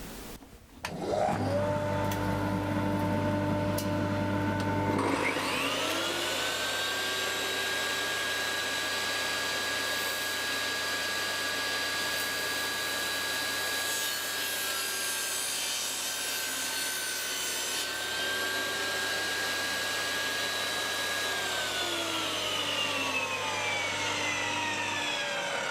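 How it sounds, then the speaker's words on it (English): A table saw cuts timber pieces to length in a workshop: the motor spins up to a steady whine, the blade works through the wood for about twenty seconds, then the pitch falls away, with no talking. "I'm just cutting these to length just by eye."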